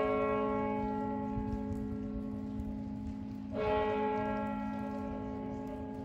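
Church bells ring out in London, a sustained, resonant tolling with a fresh strike about halfway through, loud and unaccompanied by speech.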